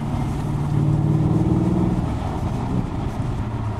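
An Audi S5 engine pulls steadily as the car accelerates up through the gears, a loud continuous low drone that rises with throttle and holds without any talk.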